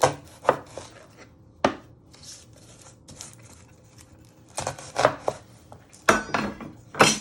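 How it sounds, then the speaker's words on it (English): A knife chops the ends off an onion on a board in a home kitchen, with several sharp, separate knocks spaced irregularly and quiet rubbing and handling noises between them, close and clear with no talking. "I like to flatten it so it's more easy to chop. Then you chop the other ends off."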